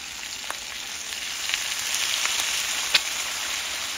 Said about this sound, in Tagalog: Pumiputik na naman ang baboy.